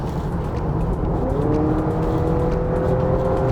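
A Honda Accord Hybrid accelerates on a straight stretch, its engine and motor rising in a steady, loud whir with climbing tones, heard from inside without talk.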